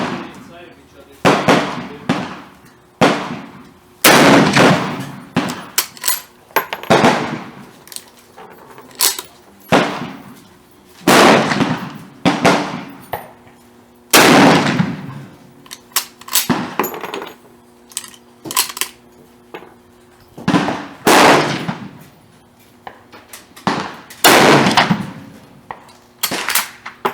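A French Berthier carbine chambered in 8mm Lebel fires shot after shot, each a sharp loud crack with a decaying echo, spaced a second or two apart across the stretch, with some voices talking between shots.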